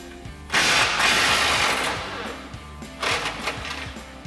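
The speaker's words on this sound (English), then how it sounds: "you grab your 24mm socket and remove this nut" Front lower control arm nut on a RAM 1500 TTX broken loose with an impact gun and 24mm socket: a burst of loud rattling hammering lasting about two seconds, a short pause, then a second, briefer burst.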